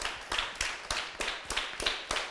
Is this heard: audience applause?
yes